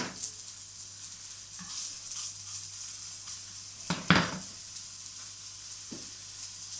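Homemade pâté sizzles steadily as it fries in a hot pan, a continuous crackling hiss with a louder burst of spitting partway through and a brief clatter near the end.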